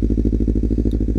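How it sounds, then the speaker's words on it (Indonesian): A Kawasaki Ninja 250 Special Edition twin fitted with a Pro Speed aftermarket racing exhaust, idling with a loud, deep, rapid even pulsing burble, close to the microphone, with no talk. "ini knalpot racing atau knalpot bising lah"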